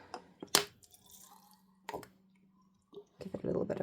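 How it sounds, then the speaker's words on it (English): Distilled vinegar squirted from a spray bottle onto Powertex Bister granules: a few short, sharp spritzes spaced apart, close by, with small handling noises between them. "Give it a little bit of a squirt of vinegar."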